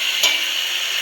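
Papaya pieces tipped into a hot pan of vegetarian curry, giving a brief soft clatter followed by a steady, even sizzle of frying that carries on alone throughout.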